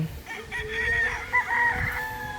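Brood stags, young gamecocks, crowing from a tethered range in the yard; a few overlapping cock-a-doodle-doo calls at moderate distance over low background noise.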